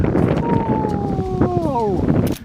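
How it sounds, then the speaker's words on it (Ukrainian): Strong wind rumbles and buffets against the microphone at a clifftop lookout on Koh Phangan while a person calls out in a long, drawn-out voice over it. "Який тут вітер!"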